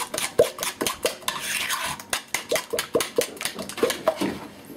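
Yorkshire pudding batter beaten with a spoon in a bowl, a rapid run of wet plopping slaps and clinks against the bowl in a brisk irregular rhythm, loud and close with no talk.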